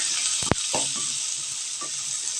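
Paneer, onion, tomato and green chilli fry in a pan with a steady hiss, broken by a sharp clack and a few soft stirring scrapes.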